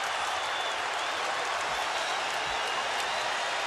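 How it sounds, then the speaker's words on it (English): A basketball arena crowd roars in a steady, dense wall of cheering and applause during a college game, loud and unbroken for the whole stretch, with no clear voice over it. "Deafening noise from this crowd"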